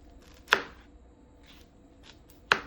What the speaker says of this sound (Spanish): El corte brunoise también puede conocerse como corte de doble cincelado cuando se habla de cebolla